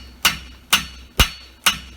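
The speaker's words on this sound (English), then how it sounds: "First I'm going to bump the end so you're compressing material and making it thicker and slightly wider." Hammer blows bumping the hot end of a bar shoe at a forge: four sharp, evenly spaced ringing strikes about half a second apart, close and clear with no talk.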